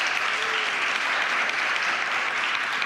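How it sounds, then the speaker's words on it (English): Steady, dense applause from a congregation at a Sunday celebration service, an even wash of many hands clapping throughout without pause. "let's give her a round of applause."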